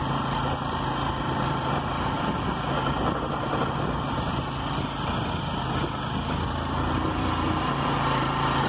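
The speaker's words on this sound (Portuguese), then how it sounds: "Lá em cima o trator tá trabalhando, né?" A tractor engine works on a hillside above a new housing development in Coronel Fabriciano, Minas Gerais, giving a steady, continuous mechanical drone at moderate distance with no talking over it.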